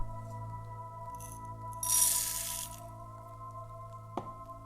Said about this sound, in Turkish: Akabinde üzerine bir yemeklik kadar pirinç dökün.